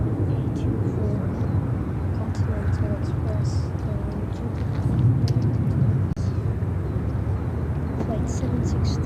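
An Atlas Air airplane landing at Chicago O'Hare gives a steady, loud low rumble of jet engine noise across the whole stretch, with no clear rise or fall, and voices faintly underneath.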